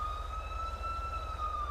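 Ambulance siren in GTA V as a steady, sustained electronic tone over a low engine rumble, moderately loud and unchanging through a brief moment.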